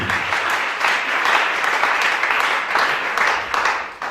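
A church congregation applauds in steady, rhythmic clapping that fills the room loudly and continuously, with faint voices mixed in.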